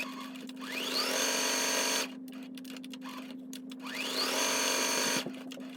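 A sewing machine stitches two pieces of fabric with iron-on stabilizer in two steady whirring runs split by a short pause, with a constant motor hum underneath, close and fairly quiet.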